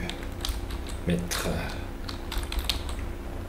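Typing on a computer keyboard nearby, a scattering of quiet, irregular key clicks with a couple of sharper taps, heard alone over a faint steady room hum.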